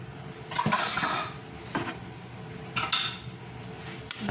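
Clinking and scraping of a utensil against a pot or bowl while dissolved Maggi seasoning is stirred into rice for grape-leaf rice wraps, a few sharp clinks amid softer scraping, fairly close and quiet.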